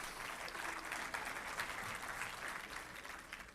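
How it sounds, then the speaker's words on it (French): A church congregation applauds, a steady wash of clapping hands that sounds somewhat distant and soft, sustained evenly from start to finish. "Oui, on peut applaudir."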